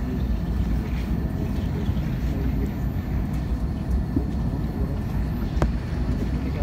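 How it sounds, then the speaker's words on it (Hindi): A Vistara airplane prepares for takeoff at night, heard as a continuous deep engine rumble with a steady whooshing hum and one faint click near the end. "Flight ready for take off."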